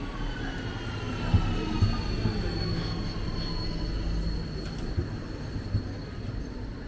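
A regional train running on rails for one short stop toward Iphofen in German wine country, with a steady low rumble and rolling wheel noise, faint high squeals and occasional clunks of the car throughout.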